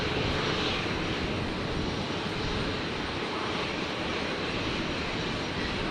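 Aircraft engine roar during takeoff at Brisbane International Airport, a loud, steady broadband rush of jet or propeller power that holds constant and close for the whole stretch, with no voices over it.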